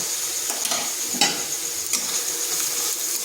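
Ginger and onion frying in a pan, a continuous close sizzle with several scraping stirs of a utensil against the pan.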